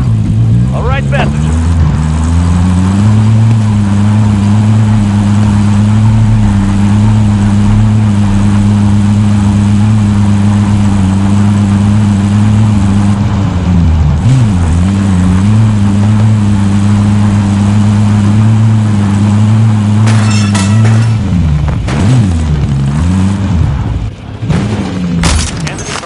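A car driven in a video game hums with a steady, loud low engine drone, holding an even pitch with brief dips and shifts as it maneuvers; voices talk over it at times.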